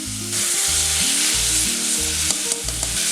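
Salted onions sauté in a pan for a quick chicken curry, giving a steady, loud sizzle with a few clinks and scrapes near the end and no talking.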